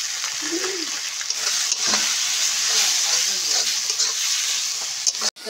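Chili and turmeric powder frying with dried fish in hot oil, a dense continuous sizzle with intermittent stirring scrapes, close and fairly loud throughout, with a faint voice briefly audible.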